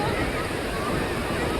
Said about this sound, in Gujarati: આ દરિયો કહેવાય